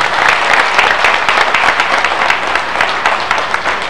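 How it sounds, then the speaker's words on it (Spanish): Loud, sustained applause from a large outdoor crowd at a rally on Avenida Vásquez in La Paz, Bolivia, celebrating a mining federation's anniversary with President Evo Morales present; dense steady clapping without pause, no speech. "¡Fuerte los aplausos!"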